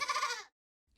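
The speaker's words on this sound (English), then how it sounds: "You two better take the goats back home." Goats bleat loudly and close for about half a second, a wavering nasal cry that cuts off into silence, with a faint start of another sound at the very end.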